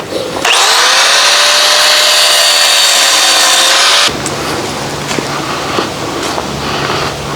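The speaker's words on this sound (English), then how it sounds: "So we're going to cut that off and we'll grind it down smooth and put the jack in there." An angle grinder or cut-off saw whines loudly and steadily as it slices through the fold-down jack on a 20-foot car hauler trailer, then the cut stops abruptly and only a rough, lower clatter of the work area is left.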